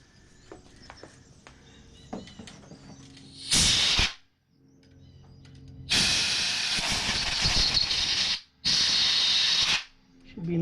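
Compressed air blasts from an air compressor tank's nozzle in a workshop, one short hissing burst followed by two longer loud jets separated by a brief pause, after quieter clinking handling noises.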